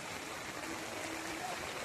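Flood water rushing as a river current after heavy flooding, a faint, steady broadband wash of flowing water with no distinct splashes, heard from a distance.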